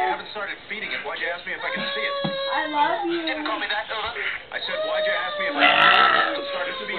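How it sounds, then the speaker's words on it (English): A woman lets out long, drawn-out burps amid a lively, noisy crowd at a wrestling event. Voices chatter and shout around the croaking belches. "I mean her burp."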